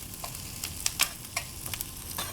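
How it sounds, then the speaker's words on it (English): Onions and garlic fry in a hot pan for an adobo broccoli and cauliflower dish, giving a steady, close sizzle broken by a few sharp crackles and pops. "You're starting to see some really nice color on the onions and on the garlic."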